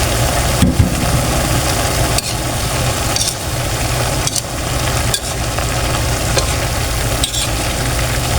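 Vegetables and quail eggs stir-frying for chopsuey make a loud, continuous sizzle close by, broken by repeated scraping and clanking strokes of a utensil in the pan.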